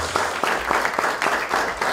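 Audience applause at a municipal cocktail reception for Reina de Piñas pageant candidates, rhythmic clapping with distinct regular beats over a steady crowd wash, moderately loud.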